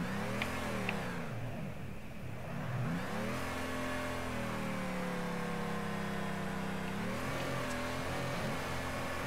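A 1969 Ford Mustang with a crate engine drifts, its engine revving up and down in sustained, rising and falling surges, heard close and loud without talk.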